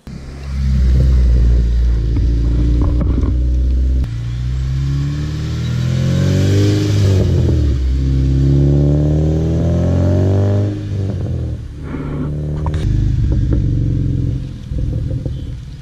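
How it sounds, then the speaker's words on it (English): A Honda Civic Si engine revs hard through a Skunk2 aftermarket exhaust, climbing in pitch with a loud, throaty roar, easing off, then revving up again. "This exhaust is going to be loud, but it's only going to be until a certain RPM in the power band."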